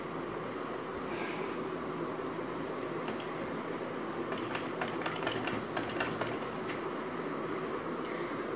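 A sewing machine runs a rough basting seam through fabric to hold it in place for an embroidered neckline, a steady continuous mechanical whir with faint ticking, close and even throughout with no talking.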